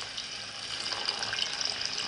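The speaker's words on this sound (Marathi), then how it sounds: "पाणी ॲड करूया आपण. गरम पाणी" Hot water pouring steadily into a pot of Konkani-style fish curry, a continuous close hiss of flowing water, unbroken and fairly quiet, no talk.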